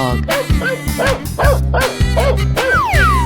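Repeated cartoonish dog barks and yips, several in a row at an even pace, from a 3D animal video game, loud and up front over a steady bed of game music.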